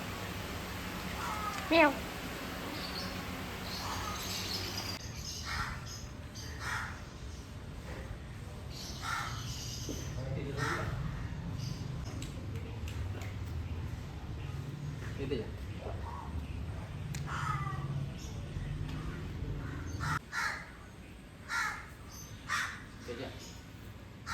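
A cat meows several times, close and insistent, amid crow caws and some talking nearby on a farm.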